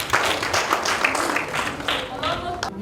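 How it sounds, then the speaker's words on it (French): Children clap for themselves in a hall, a short burst of scattered, fairly close applause with voices mixed in. "Applaudissez pour vous les enfants."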